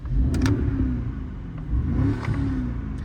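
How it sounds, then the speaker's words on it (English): The V8 of a parked 2023 BMW X7 M60 in Sport Plus mode revs twice in quick bursts, a deep throaty rumble swelling and settling back to a loud idle. "Quiet little V8 sound, but if you put it into Sport Plus"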